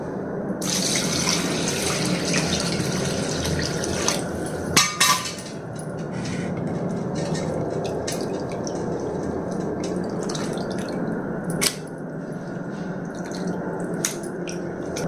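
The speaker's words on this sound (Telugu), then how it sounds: "నీళ్ళు పోసి కడిగేయాలి" Running water splashes steadily as small fish are rinsed by hand, with occasional sharp knocks and clatters.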